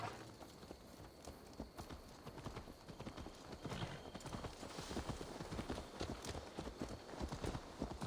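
Steady clip-clop of horse hooves trotting at a regular rhythm in Assassin's Creed Valhalla, soft and continuous, with faint background game ambience.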